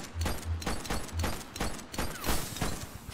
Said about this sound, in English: Christ, was that gunfire?